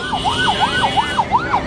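An ambulance siren wails in a rapid, repeating up-and-down cycle, about seven sweeps, loud and close over a road with traffic, no voices.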